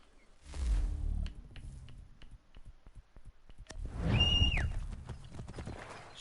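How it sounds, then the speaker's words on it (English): Hooves clip-clop in a steady gallop in Assassin's Creed III, with a horse whinnying partway through; the hoofbeats come in two fairly loud bursts with a softer stretch between. "Where's my horse actually?"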